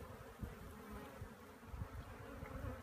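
Bees buzz in a steady, dense, faint drone at a log hive, sounding like many insects close together around the entrance, with no voices.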